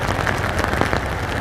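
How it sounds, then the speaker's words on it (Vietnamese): Heavy rain pours down steadily on a street in Saigon, a dense hiss of drops pattering on hard surfaces nearby. "Mưa quá."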